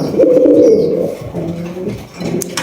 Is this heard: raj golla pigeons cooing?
yes